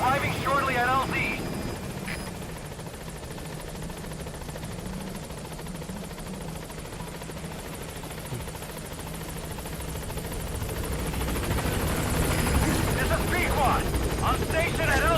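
A helicopter in Metal Gear Solid 5 approaches a landing zone, its steady rotor drone building louder toward the end, while game voices talk over it.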